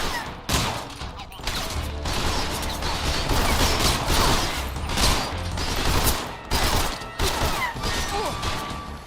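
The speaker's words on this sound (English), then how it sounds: "shoot him with the AK-47" AK-47 gunfire in Metal Gear Solid Delta: Snake Eater, loud repeated bursts of rifle shots with sharp cracks and mechanical clatter, coming in rapid clusters across the stretch over a dense game soundscape.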